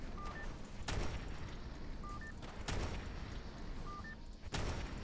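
Pulse rifle fire in Fallout 4 (the Overwatch Standard Issue Pulse Rifle mod): three loud, sharp bursts spaced about two seconds apart, each a broadband blast with short electronic blips between shots over steady game ambience.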